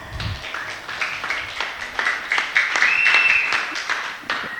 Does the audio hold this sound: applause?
yes